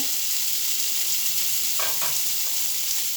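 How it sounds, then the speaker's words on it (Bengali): Pieces of rohu fish frying crisp in oil in a pan, a steady hissing sizzle that stays even from start to finish, with a couple of soft utensil scrapes in the middle. "মাছগুলো কড়া করে ভাজি করে নিব এই তো আমার মাছ ভাজি হয়ে গেছে"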